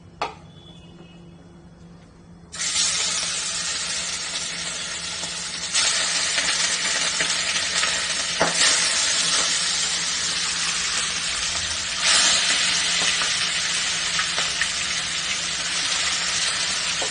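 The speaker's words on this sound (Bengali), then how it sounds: "আসুন তাহলে আমরা এবার মাছগুলোকে" Fish pieces marinated in salt and turmeric start frying in hot oil after a short quiet start, a steady loud broadband sizzle that swells at about 3, 6 and 12 seconds as more pieces go in, with no talk.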